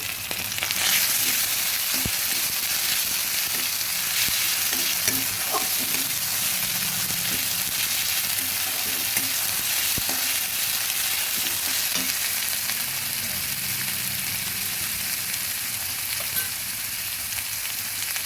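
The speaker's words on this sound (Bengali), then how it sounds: "আদা রসুনটা সুন্দর করে ভেজে নেব" Ginger-garlic paste frying in a pan gives a loud, steady, hissing sizzle that runs unbroken throughout, with a few faint clicks of a utensil underneath.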